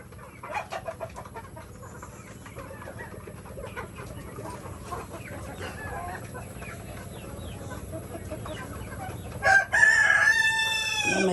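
Native chickens cluck and scratch around at a moderate distance for a long stretch, then a rooster crows loudly near the end, a second crow following close behind.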